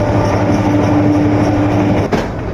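Inside a moving passenger train near the connecting passage between coaches, a loud, continuous rumble of wheels and carriage runs steadily, with a brief clank near the end.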